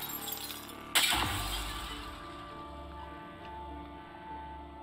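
Smart glass shatters in the video game Prey, a sudden loud crash with tinkling shards, followed by a low rumble and steady game ambience, with no talking.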